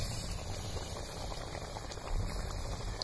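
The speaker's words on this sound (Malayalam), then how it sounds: "വറ്റിക്കൊണ്ടിരിക്കുവാണ്, നന്നായിട്ട് തിളക്കുന്നുണ്ട്." Kerala fish curry with varal simmering in coconut milk, a steady close bubbling boil with dense fizzing and popping that holds evenly throughout.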